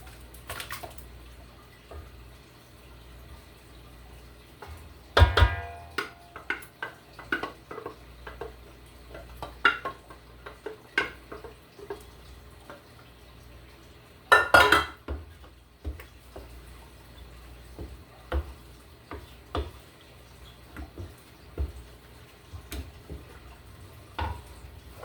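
Sorrel liquid and fruits go into a Jamaican Christmas fruit cake mix in a bowl: quiet scraping and stirring with soft clinks, broken by two sharper clattering bursts, with no talking.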